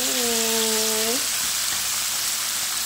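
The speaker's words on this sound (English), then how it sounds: "they got my perch cooking right now, frying perch." Steady hiss and crackle of perch frying in oil, with a short tonal whine at the start before the sizzle continues alone.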